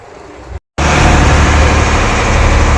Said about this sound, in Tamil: இதாங்க இன்ஜின் ரூமு